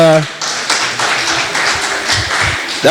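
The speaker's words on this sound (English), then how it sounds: "Let's give them a round of applause" Audience at a children's program claps after a performance, a modest patter of hands with a few sharper individual claps, briefly cut by voices at the start and end.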